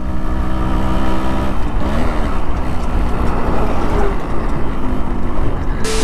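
A modified Yamaha RX100 motorcycle engine drones steadily and loud throughout, close up while riding, with a continuous rough mechanical roar and wind noise and no talking.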